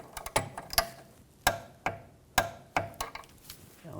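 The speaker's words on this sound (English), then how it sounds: "Now we're going to torque this nut to 47 foot-pounds." A torque wrench tightens a nut on a 2006-2010 BMW 550i rear sway bar link, giving a series of sharp ratcheting clicks in uneven bursts, close and fairly quiet, with no talking.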